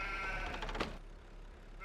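A single clear sheep bleat in a farming simulator game as the animals are returned to their pen, fairly close and alone over a low steady background hum.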